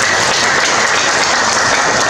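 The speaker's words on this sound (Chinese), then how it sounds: "大家给个掌声一下" An audience at the opening ceremony of a classical arts education exhibition claps steadily, a dense, loud, even wash of applause with no voices over it.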